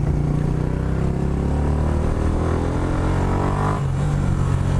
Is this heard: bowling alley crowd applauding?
no